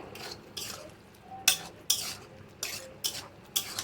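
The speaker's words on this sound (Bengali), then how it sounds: "এবার আমি পোস্ত পাতাটা দিয়ে দিচ্ছি দিয়ে ভালো করে নেড়ে দেবো" Bottle gourd cooked with poppy seed paste and leaves, stirred in a pan, giving a run of scraping spatula strokes roughly every half second with light clinks, close and fairly quiet, with no talk.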